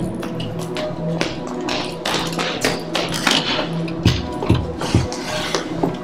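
Repeated tapping and knocking of drawers being searched in the Roblox game Piggy, a steady run of close, sharp taps and thuds over a busy game soundscape.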